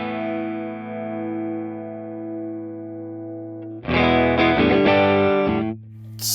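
Clean electric guitar chord through a Tweed clean amp model rings out and sustains, then a short burst of strummed chords follows before fading, warm and close.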